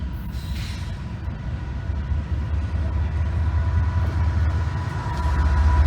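A long freight train rolls past nearby, a steady loud low rumble of rail cars that swells slightly toward the end, with no talking.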